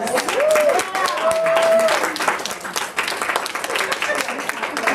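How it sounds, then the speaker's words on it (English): Audience applause fills the room, steady dense clapping with a few cheering voices, loud and close, for a speaker at a talk event. "Let's give her a goddess round of applause."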